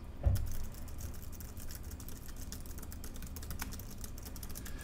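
Steady, muffled typing on a rubber dome laptop keyboard, soft rapid keystrokes running continuously at close range with no voices.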